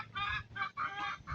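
Gamefowl breeding hens cluck close by in a few quick, throaty bursts with brief gaps between them.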